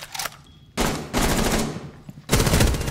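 Rapid automatic gunfire from a Rainbow Six Siege match, loud and close, coming in dense bursts with short gaps between them and no talking over it.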